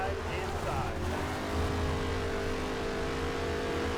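Race car engine in the NASCAR Heat 3 video game holds a steady, droning roar at a low, even level throughout, with no distinct passes or sharp revs.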